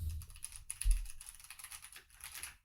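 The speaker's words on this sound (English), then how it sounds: "so it's a new mechanical keyboard." Rapid clicky keystrokes on a new mechanical keyboard, close and crisp, in an uneven burst of typing with a few heavier thocks.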